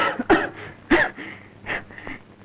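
A few harsh, rasping coughs, close and fairly loud, come in uneven bursts with short pauses between them, from a scene in the Malayalam film Kazhukan.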